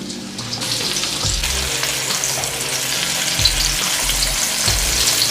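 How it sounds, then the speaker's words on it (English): Breaded shrimp deep frying in oil preheated to 350 degrees, a loud continuous close bubbling sizzle with occasional low thumps from the pot. "Now it's time to fry them in a preheated oil, 350."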